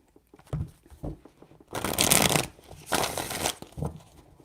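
A new tarot deck being shuffled by hand, two bursts of stiff riffling cards close by, each about a second long, preceded by soft taps of the cards being handled.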